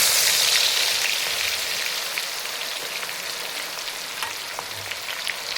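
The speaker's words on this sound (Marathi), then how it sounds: "कांदे छान असे तळून घ्यायचे" Onions fry in hot oil for puffed rice chivda, a bright, crackling sizzle that is loudest at first and then settles into a steady hiss with small pops, no talking.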